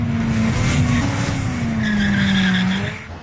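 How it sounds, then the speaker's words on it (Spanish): A 638-horsepower Chevrolet Corvette ZR1 screeches its tires in a loud, sustained skid while the engine holds a steady droning note, then the sound tapers off at the end. "El ZR1 es el más ruidoso."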